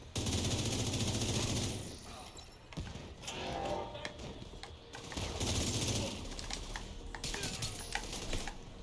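Video game gunfire during a hard-mode speedrun of Summit: rapid bursts of shots and a loud, dense rattle that fades in and out, with a voice talking at times.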